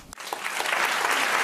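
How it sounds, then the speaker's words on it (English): Applause rises quickly from a crowd after a short lead-in and holds as a dense, even clatter of many hands, fairly loud and continuous. "Please clap"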